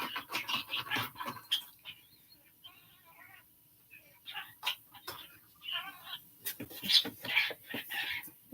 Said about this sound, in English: we don't need the birds in the background